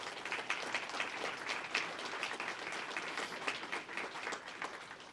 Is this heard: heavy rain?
no